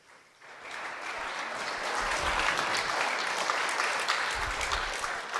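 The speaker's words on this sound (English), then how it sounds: "Let's give a big round of applause to my two friends." Audience at a charity gala breaks into applause that swells quickly after a quiet start and holds as steady, full clapping from a large crowd through to the end.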